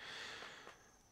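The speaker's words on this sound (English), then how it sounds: "I hope I didn't wake you with that loud-ass yawn" A single loud yawn rises as a breathy exhale, close and alone, fading over about a second in a quiet room.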